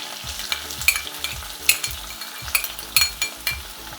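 Chopped onion frying in a pan while jeera rice and dal are being cooked: a steady hiss of sizzling oil broken by regular scraping, clicking strokes of a stirring spatula about twice a second.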